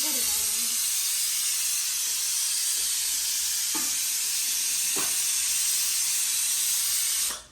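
Oil sizzles steadily in a pan, a loud, continuous bright hiss with a few soft clinks and brief voice fragments near the start, the frying noise holding evenly before cutting off at the end.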